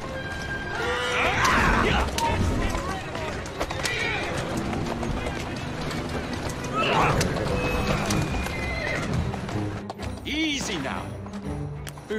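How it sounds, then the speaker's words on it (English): Horse in the Assassin's Creed Syndicate video game, with clopping hooves and several loud whinnies rising over a busy game soundtrack, with voices talking throughout. "Who's a good horse? You are."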